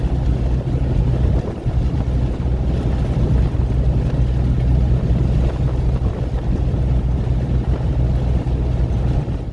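Dense, steady wind roar buffets a Jeep JK cruising at 82 mph with its top open, a constant loud rush with low rumble underneath and no talking.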